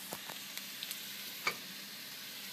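Softened vegetables sizzle quietly in a pan for a Mexican lasagna, with a few light stirring taps and one sharper clack from the spoon, no voices.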